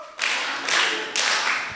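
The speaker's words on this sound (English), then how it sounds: "now we are going to clap to Fabrice like factorial 2" A school class clapping together for a student in three loud, sharp, evenly spaced bursts of many hands, close and without talk.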